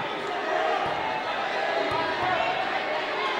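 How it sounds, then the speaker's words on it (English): High school varsity boys basketball crowd swelling loudly during a free throw, a dense sustained roar of cheering and chatter with occasional sharp thuds. "the crowd getting loud here"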